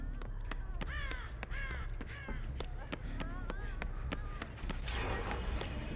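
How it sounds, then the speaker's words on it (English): A crow in a video game caws repeatedly in a series of harsh, rhythmic calls, fairly close and clear, with a faint voice in the background. "Oh, there's a bird."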